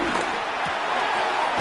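A packed stadium crowd in an NFL football game roars in a broad, steady wash of cheering, fairly loud and sustained for a short stretch with no clear talk over it.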